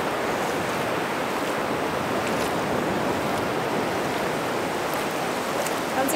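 Big ocean waves at Cocoa Beach produce a steady, full wash of surf noise with no breaks, loud and continuous with no distinct voices standing out.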